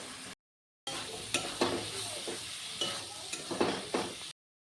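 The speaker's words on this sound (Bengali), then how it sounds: "এখন ভেজে রাখা আলুটা দিয়ে দেব।" Potatoes and soybean chunks fry in a pan, giving a close, steady sizzle broken by scraping stirs and clatters, with a brief silent gap near the start and no talking.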